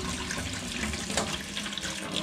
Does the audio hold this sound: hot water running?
yes